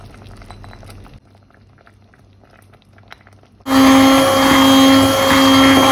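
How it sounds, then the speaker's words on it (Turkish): A mixture simmers in a pot on low heat, first with faint, sparse bubbling and ticks, then a sudden loud, steady roaring boil with a constant hum takes over near the end. "Şöyle bir saat kadar altı da kısık kaynasın"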